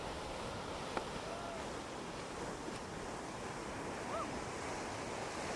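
Shore break waves break right on a beach, a faint, continuous wash of surf and wind noise with little variation and no distinct individual crashes.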